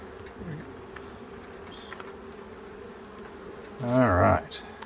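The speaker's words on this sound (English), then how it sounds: "there's a bee under your finger" Honey bees buzz steadily around an open beehive during an inspection, a low continuous hum with a sharper, louder buzz close by near the end.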